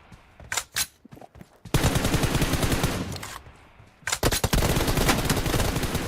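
Gunfire in the video game PUBG: a few separate sharp shots, then long, loud bursts of automatic fire split by a brief pause before a second heavy volley.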